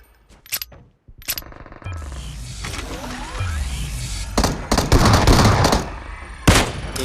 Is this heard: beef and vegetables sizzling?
no